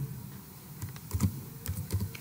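Quiet typing on a computer keyboard, a short run of irregular key clicks clustered in small bursts with no talk.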